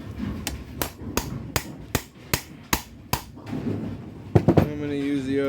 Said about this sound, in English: I'm going to hammer this guy on.